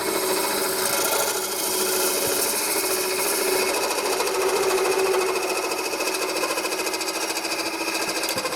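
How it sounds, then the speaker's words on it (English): A shop-made carbide scraper hollowing out spalted hazel for a lidded pot on a wood lathe: a continuous, dense scraping buzz with a steady motor hum underneath, loud and close, unbroken throughout. "Just clearing that out there with the shop-made carbide scraper."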